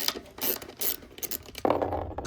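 A ratchet working loose the 10 mm carburetor bolts on a Predator 212 roto-tiller engine, giving short clicking bursts of pawl ratcheting in an uneven rhythm, close and moderately loud, with no talk.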